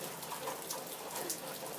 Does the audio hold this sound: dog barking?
no